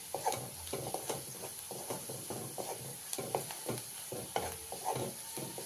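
A paste of ground cumin and coconut sizzles and fries in hot oil in a pan while being stirred, soft repeated scraping strokes over a steady quiet sizzle, with no talking.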